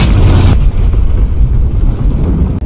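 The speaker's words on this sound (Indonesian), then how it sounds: "seorang personil tim 4 terkena materi ledakan akibat serangan yang semakin menggila" Rocket-attack explosion in an action film: a loud broadband blast bursts out at once and holds for about half a second, then gives way to a heavy low rumble of falling debris that keeps going.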